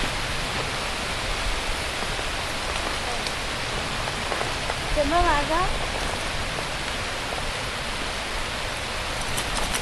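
Steady rain pours down outdoors during a horseback trail ride, a dense constant hiss throughout, with brief voices talking and a short higher call midway.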